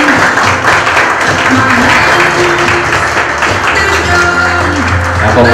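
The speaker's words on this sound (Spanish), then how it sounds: "Más fuerte ese aplauso para ella." Guests at a quinceañera celebration applaud the girl's entrance, loud continuous clapping from a close crowd with music tones and faint voices mixed underneath.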